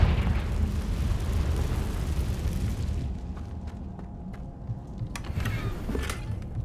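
A Confringo fire spell bursts in Hogwarts Legacy, a loud rumbling explosion that fills the first three seconds and then settles into a lower roar, with a few sharp crackles near the end.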